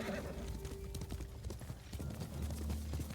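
Horse hooves clip-clop in a steady rhythm in the video game Ghost of Tsushima, close and fairly loud, with a brief whinny and other game sounds mixed in.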